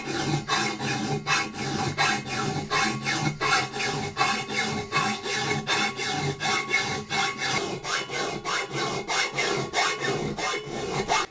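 A file rasps steadily back and forth along a blade outdoors in the cold, with fast, even, rhythmic strokes that run continuously and close up.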